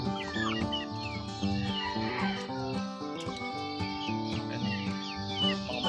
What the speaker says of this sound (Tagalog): Mga malalaking manok po yan.